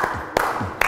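Hands clapping to a beat during a church sermon, two sharp claps close by in a steady rhythm with nothing else around them.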